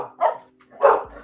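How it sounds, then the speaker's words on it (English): Two quick barks from a dog sound close by, spaced about half a second apart, alone with no talk over them. "my dogs are getting started"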